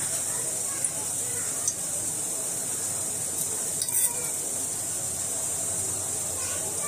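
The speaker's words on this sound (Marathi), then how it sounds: "मोहरी चांगली तडकली की पुढचं जिन्नस टाकूया" Mustard seeds crackling in a little hot oil: a steady, bright sizzling hiss that holds for about seven seconds, broken by a few sharp pops and one short burst of spattering.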